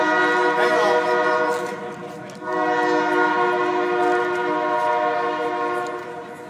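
A train rumbles past close by, sounding a long, loud horn blast that dips briefly and then resumes, with rail noise continuing underneath.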